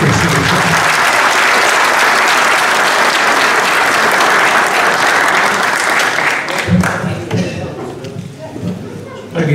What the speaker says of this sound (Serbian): Pozdravite jednim velikim aplauzom našeg predsjednika